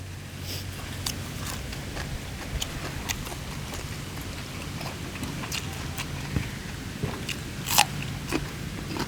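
Crunchy chewing of raw shrimp eaten outdoors in cold, windy weather, with irregular crisp bites and crunches close to the mic over low wind noise.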